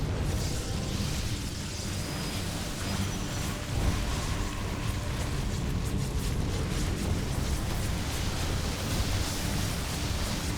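Explosions from a StarCraft II battle in which a Protoss carrier fleet's interceptors are destroyed, a dense continuous roar of blasts and bursts running loud and unbroken throughout.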